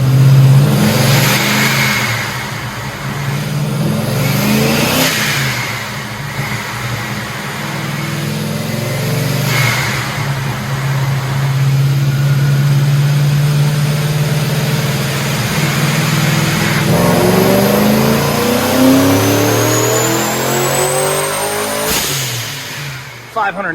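A silver Pontiac GTO fitted with a TorqStorm supercharger revs hard through repeated pulls, its loud engine note rising, falling and briefly easing between runs, with a voice talking over it.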